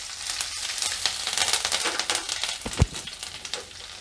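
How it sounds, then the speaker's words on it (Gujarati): Green chilies drop into hot oil for lilva kachori, setting off a loud, crackling close-up sizzle with sharp spits, one louder pop near the end. "તેલ આપણું ગરમ થઈ ગયું છે, હવે આપણે એમાં પહેલાં મરચાં નાખી દઈશું લીલા"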